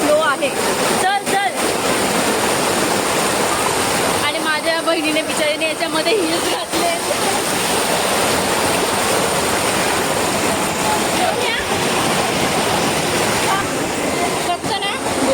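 Water rushes steadily down Tapalwadi waterfall near Neral during the monsoon, a loud continuous roar filling the whole stretch, with people talking close by over the flow.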